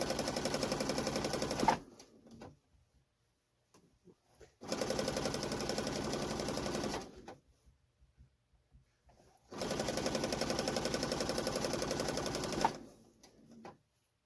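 A sewing machine runs in three steady bursts of rapid stitching on quilt patchwork, each a few seconds long, separated by short quiet pauses with faint handling noises.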